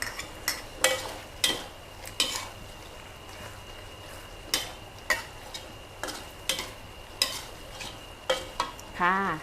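Dry green curry with fish balls stir-fried in a pan, with repeated rhythmic spatula scrapes and clanks over a continuous close sizzle, roughly one stroke every half second, ending in a brief squeak.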